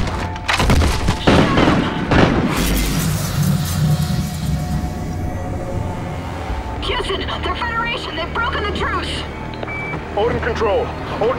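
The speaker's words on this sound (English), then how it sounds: "we are taking fire!" Heavy booms, thuds and sharp crackling bursts of gunfire and explosions from Call of Duty: Ghosts, loud and dense throughout, with shouted combat voices mixed into the battle noise.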